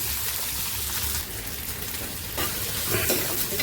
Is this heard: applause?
no